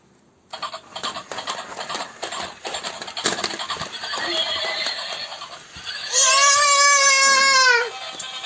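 A battery-powered toy horse gives a loud, close mechanical whinny near the end, after a stretch of rattling clatter from the toy, with a voice and other household sounds mixed in.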